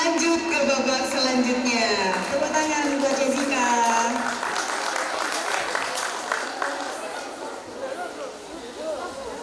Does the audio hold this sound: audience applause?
yes